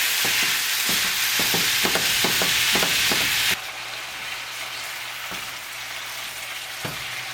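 Ground meat sizzles loudly in a pan as it is stirred, with repeated scraping knocks in a quick rhythm, then the hiss drops to a quieter steady frying with an occasional knock.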